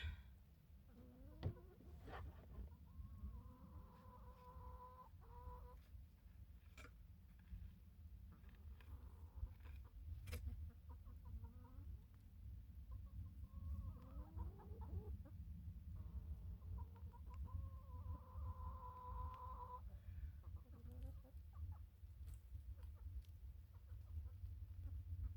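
Backyard garden chickens cluck softly at a distance in quiet outdoor air, scattered bursts of low clucks and a few louder calls spread across the stretch against faint background noise.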